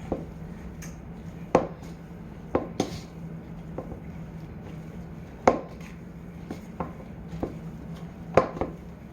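Chocolate chip cookie dough is mixed by hand in a bowl, giving irregular dull knocks and scrapes against a soft steady background, with no talking.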